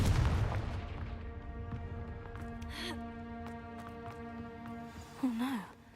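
A Confringo blast spell in Hogwarts Legacy, a heavy booming burst at the start that fades into a lingering tonal hum, with a brief vocal sound near the end.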